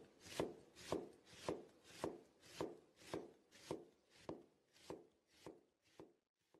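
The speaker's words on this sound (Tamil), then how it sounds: "ஆரம்பமே வெங்காயம் நறுக்கிறத வருது" A knife chops onions steadily on a board, about a dozen evenly spaced thuds with a crisp edge, close up and with no talking.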